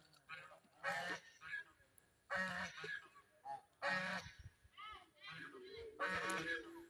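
Geese in rural Bangladesh on a winter day give repeated loud honks in short bursts, close by, with people talking in between.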